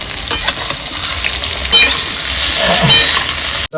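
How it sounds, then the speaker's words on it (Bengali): Radish and eggplant frying in hot oil for a small bata fish jhal, a loud continuous close sizzle with occasional spatters and utensil scrapes, no talking. "ভাজা হয়ে গেছে মূল বেগুনটা আমি তুলে নিচ্ছি"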